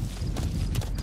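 Galloping horse hooves in Metal Gear Solid V: The Phantom Pain, a loud, close, dense drumming of hoofbeats over a heavy rumbling bed for about a second, with no voices.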